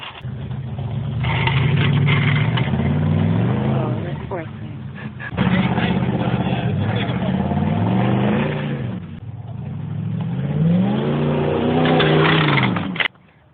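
A fire-damaged diesel Oldsmobile 98 with a leaking exhaust manifold revs hard in a burnout, its engine rising and falling in three long, loud surges, with voices heard faintly under the roar.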